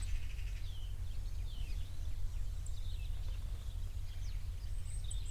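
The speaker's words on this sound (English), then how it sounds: "Just the sound of the birds now. Wee robin singing them, so you can hear that." Small birds, a robin among blackbirds, chirp and sing faintly and intermittently outdoors beside a sacred well, over a steady low rumble of wind or distant traffic.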